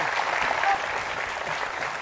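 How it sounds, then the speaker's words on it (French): A game show studio audience breaks into brisk, sustained applause, a full, even wash of clapping heard up close for a couple of seconds. "Je vous demande d'applaudir, s'il vous plaît, Céline."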